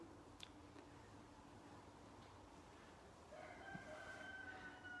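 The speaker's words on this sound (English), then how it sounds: "that is a rooster, which just adds to the coolness of this house" A rooster crows from a distance outside a mid-century house in Kenmore, a faint rising call over steady outdoor background noise near the end.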